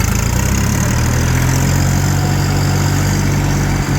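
A Chinese RD 244 LUX tractor engine drones loudly and steadily up close while the tractor is driven, a continuous rumbling chug with no break.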